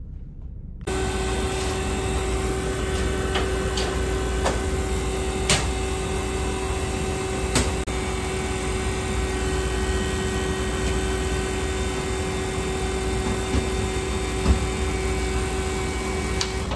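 A vacuum pump evacuating the refrigerant system of a freezer being repaired runs as a steady, loud mechanical drone with a constant hum. It starts abruptly after a brief silence and continues alone without talk.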